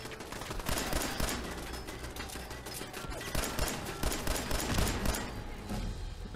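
Rapid gunfire in the video game Fallout 4 inside the Corvega Assembly Plant, with dense bursts of loud, crackling shots rattling continuously throughout.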